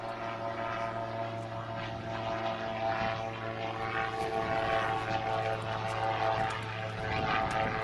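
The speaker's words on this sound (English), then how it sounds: "The engine with a prop has its main job of thrusting the gyroplane forward through the air." A gyroplane's propeller engine drones steadily in flight, a continuous, even roar with a low buzzing hum that holds nearly constant and shifts slightly near the end.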